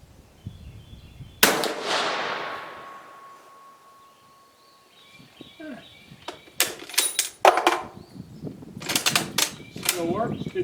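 A Dutch Beaumont rifle fires a single loud shot during test firing, its boom ringing out and slowly decaying, followed by sharp metallic clicks and handling clatter of the action.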